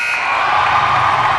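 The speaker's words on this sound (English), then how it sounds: "At the shot clock buzzer," A loud, sustained shot clock buzzer blares in a high school basketball gym, a harsh continuous tone over crowd noise.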